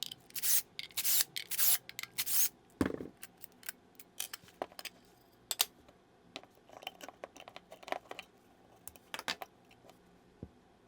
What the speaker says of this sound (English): Let's go ahead and crack open the pedal.